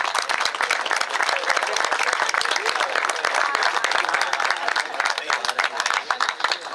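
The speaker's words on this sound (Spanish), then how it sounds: "Aplaudimos fuerte, por supuesto" Outdoor crowd at a water-well inauguration in a rural community claps hard, dense, close and steady with crisp individual claps throughout, easing slightly toward the end.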